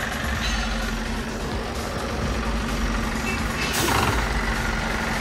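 A TATA 1923 truck creeping slowly forward, its heavy engine rumbling loud and close with a steady reversing-style beep pattern and a brief hiss of air brakes near the end.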